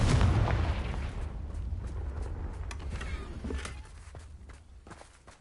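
A Confringo fire spell blast in the Hogwarts Legacy video game, a heavy booming burst that rumbles and fades over several seconds, with scattered crackles and thuds in the tail.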